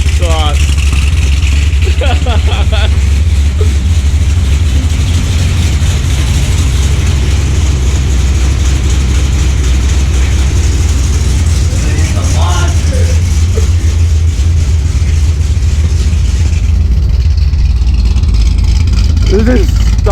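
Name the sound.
Chevrolet C6 Corvette Z06 engine running, stock mufflers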